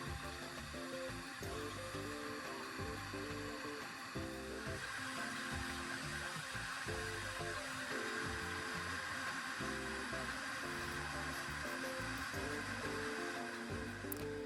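A CNC laser engraver runs a G-code power test from 5 to 50% on a DIY PCB, giving a steady mechanical whir with rhythmic stepping pulses and short motor bursts, continuous and close throughout with no talk.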